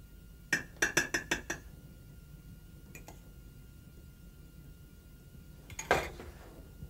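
Utensils clink against a plate while onion compote is spread in the middle of a restaurant dish: a quick run of five bright metallic taps, a faint tap later, then a final clatter in a quiet room.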